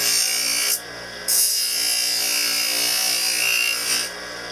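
Dental burr trims an acrylic partial denture with a continuous high-pitched whine and rubbing grind, briefly dropping off twice as the bur lifts away, close and loud with no talk.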